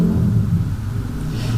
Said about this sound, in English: excuse the motorbike